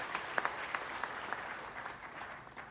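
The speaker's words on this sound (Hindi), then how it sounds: "आप ही तालियां बजा के उनका स्वागत कीजिए, अभिनंदन कीजिए" An audience at a state government event for farmers in Madhya Pradesh claps: scattered sharp hand claps merge into a moderate, steady round of applause heard at some distance, with no voices over it.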